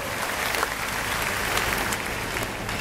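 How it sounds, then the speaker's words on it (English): Audience applause at a company event for AIM Global products, a dense continuous wash of many hands clapping at steady loudness throughout, with faint crowd murmur mixed in. "let's clap our hands for the wonderful products of AIM Global"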